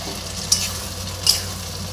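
Chilli chicken pieces stirred in a pan of sizzling sauce, a steady close sizzle broken by two sharp scrapes of a spatula against the pan.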